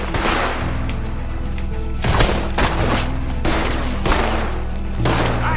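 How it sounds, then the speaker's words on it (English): Repeated gunfire in Red Dead Redemption 2, a loud fusillade of booming shots over a steady rumbling background, with several heavy bursts at irregular intervals and no talk. "Can hardly see what I'm shooting at."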